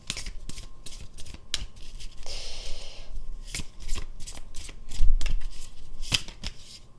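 A deck of oracle cards being shuffled up close, with repeated crisp riffling and slapping bursts, a longer rustling shuffle midway and soft taps between, and no voices.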